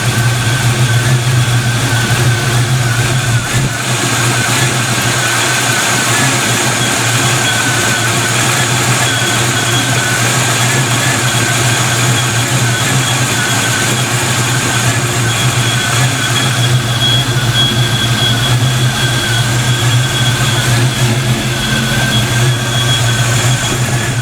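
Car engine idling right after its first fire on bigger injectors, a loud, close, steady rumble with a constant low hum and a slight uneven lope, running alone without talk.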